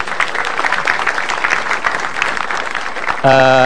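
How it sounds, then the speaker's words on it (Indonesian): Audience applause for a stand-up comedian on stage, a burst of steady, fairly loud clapping that runs for about three seconds before a musical tone cuts in. "tepuk tangan dong buat saya"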